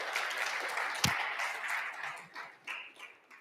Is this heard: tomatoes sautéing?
no